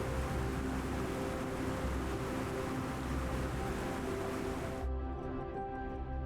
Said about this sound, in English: hear the thunderous rush of water crashing into the